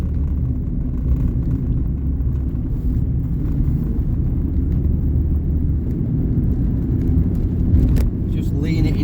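A Lupo GTI hatchback driving at speed along a back road, with a steady, loud low engine and road rumble throughout and a voice talking over it.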